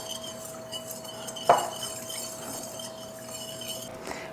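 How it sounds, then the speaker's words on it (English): Olive oil being stirred into tallow in a glass container: soft, steady stirring with one sharper clink of a utensil against the glass, quiet and close, no voices. "And then I'm going to stir just a little bit to make sure that those 2 are very nicely"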